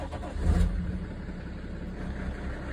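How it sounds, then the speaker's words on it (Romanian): BMW E60 525d diesel engine cranking and starting roughly, with a brief low surge followed by a steady, close, rumbling idle and no voices. "mașina vibrează și pornește ciudat"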